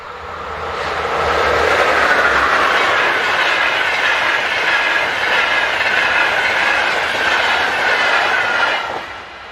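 Slovak class 350 electric locomotive hauling the Budapest–Hamburg-Altona express as it hurries past, swelling into a loud rushing roar with rhythmic clickety-clack of wheels over rail joints, then fading as the train clears.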